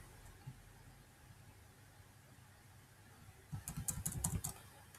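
A computer keyboard in a quiet room, with a brief rapid burst of clicking keystrokes near the end after a few seconds of near silence, close and moderately loud.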